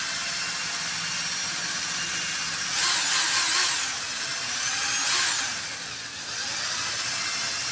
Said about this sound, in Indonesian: Ngebor kayak balapan mobil